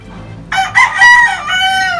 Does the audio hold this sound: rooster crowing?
yes